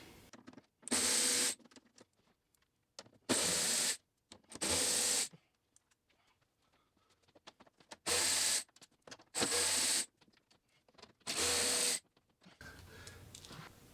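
A 10 mm socket wrench works bolts loose from the plastic engine cover of a BMW S55 engine in an M3/M4, six separate bursts of close ratcheting, each about a second long, with quiet pauses between.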